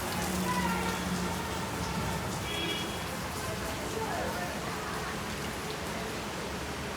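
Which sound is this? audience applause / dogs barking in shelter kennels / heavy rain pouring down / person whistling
heavy rain pouring down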